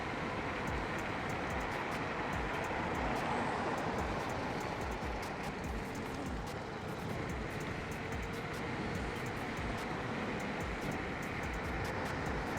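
A Vlaken G3 Pro electric scooter ridden in gear 2 with settings maxed out, producing a steady broadband rush of wind and road roar that runs continuously without pause, with no one talking.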